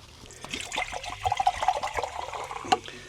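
La Perla sparkling water pours into a vessel at home, a close, gurgling trickle with bubbly splashes that rises and falls over a few seconds.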